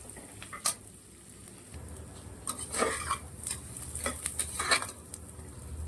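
Onions and green chili sautéing in a pan make a soft, close sizzle while a spatula scrapes and clinks against the metal in irregular strokes.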